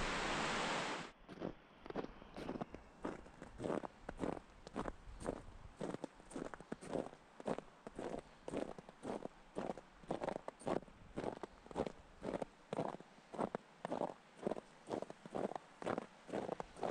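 Steady footsteps crunch along a path through a reservable tent site in the Kananaskis mountains on a sunny winter day, a long even series of close, regular steps heard alone.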